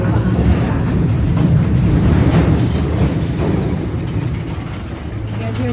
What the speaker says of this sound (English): You guys hear those trains under there?